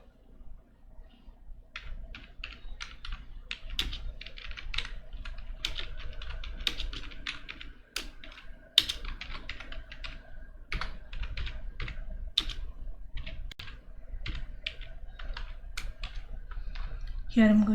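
Steady bursts of key clicks from Java code being typed on a computer keyboard, quick irregular rhythm with brief pauses, close and moderately loud over a low background hum.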